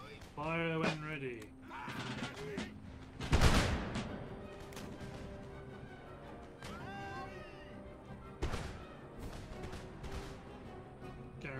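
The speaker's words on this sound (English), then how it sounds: "Hey, foot guards, fire when ready." A musket volley from foot guards in Empire: Total War rings out as a loud crackling burst, followed by scattered later shots amid battlefield din, with a voice talking over parts of it.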